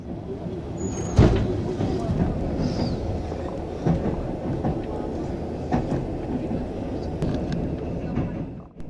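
Trans-Siberian train running on rails near Perm, a continuous rumbling roll with scattered clanks and a sharp knock, heard from aboard under steady noise.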